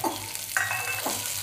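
Onion, whole green chillies and curry leaves frying in a pan, a brief close sizzle with a couple of quick scraping stirs over a low background hum.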